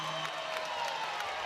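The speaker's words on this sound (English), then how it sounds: "Lots of applause in the gym right now" A crowd applauds in a gym during a Baylor vs. TCU NCAA women's volleyball match, a steady wash of clapping and faint cheering throughout, heard at a moderate distance.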